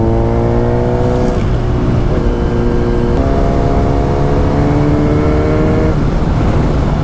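A motorcycle riding on the NH12 highway, its engine loud and close, droning steadily and rising in pitch through gear changes under heavy wind rush.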